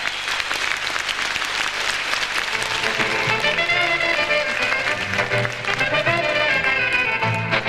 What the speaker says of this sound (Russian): раздастся гром аплодисментов